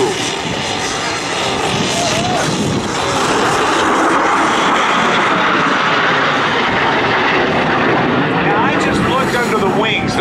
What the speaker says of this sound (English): the high-speed pass, ladies and gentlemen. Here comes the AV-8B Harrier II.